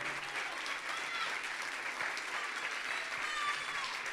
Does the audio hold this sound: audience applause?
yes